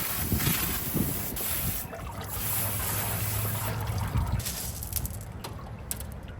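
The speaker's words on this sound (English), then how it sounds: "Even if these rocks were new from a bag, it would be a good idea to rinse them." Water rinses a batch of pebbles clean before a concrete repair, a continuous close trickling and splashing wash with faint gravelly rattles, steady and moderately loud with no talk.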